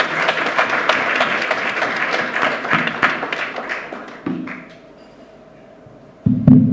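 Audience applause at a tax justice conference breaks out, dense and loud clapping for about four seconds before fading to a quiet murmur, then a short burst of thumps at the end.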